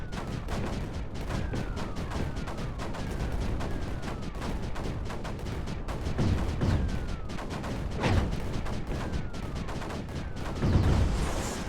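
Mortars firing in the video game Creeper World 4, a rapid stream of sharp shots with whistling descending tones and occasional deeper thuds, steady and fairly dense throughout, with no talking.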